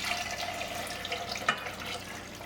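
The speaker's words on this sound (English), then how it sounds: "Now we just want to cover the eggs with cold water." Cold water pours steadily over eggs in a pan on the stovetop, a continuous close splashing flow.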